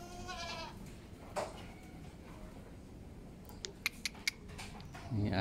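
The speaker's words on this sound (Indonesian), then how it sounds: "Ini kambing perah." Dairy goats on a farm bleat in a few short calls, with scattered sharp squeaks and a steady background murmur of pen noise, moderately close.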